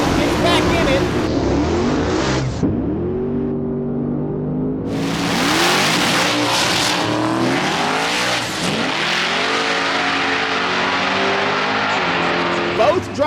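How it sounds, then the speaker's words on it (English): Two drag cars, a twin-turbo Cadillac CTS-V and a nitrous Dodge Demon, launch down a quarter-mile strip at full throttle, engines roaring and tires spinning and squealing, loud and continuous under an excited announcer. "Both drivers spun as soon as they hit the throttle."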